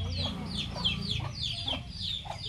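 A chicken chick peeps and clucks close by, a steady series of short, high chirps repeating about twice a second over a low background hum.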